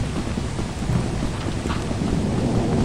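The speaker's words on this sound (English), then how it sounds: "Lightning." Thunder from a lightning strike rolls low and heavy through a steady wash of rain, a continuous rumbling storm with no voices.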